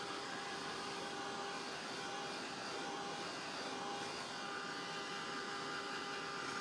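A heat tool drying white dry-brushed paint on a craft piece: a constant, loud, steady whooshing blow with a faint whine, running without a break and with no voices.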